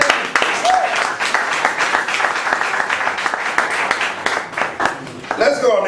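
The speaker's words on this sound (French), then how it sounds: "applaudissons pour le Seigneur" A church congregation applauds during a worship service, with dense clapping throughout and a speaker's voice carrying over it at times.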